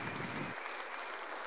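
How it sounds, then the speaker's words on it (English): An audience at the BruCON security conference keynote claps and cheers briefly, a dense burst of applause that stays loud throughout. "Give me a cheer. Give me some clapping."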